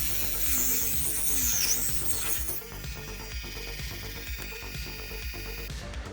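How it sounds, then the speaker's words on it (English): A small rotary tool fitted with a tiny saw blade cuts through PLA plastic, giving a close, high whine with an irregular ticking, clicking chatter as the blade bites into the 3D-printed part. "These little saw blades cut the PLA pretty nicely."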